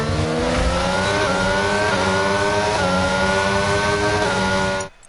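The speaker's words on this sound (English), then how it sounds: "He is starting his hot lap, so let's stay on board with the Aston Martin." Aston Martin Formula 1 car from F1 22 howling at high revs on an onboard hot lap around Azerbaijan's street circuit, a steady loud engine note with rising gear-by-gear pitch sweeps, cutting off abruptly near the end.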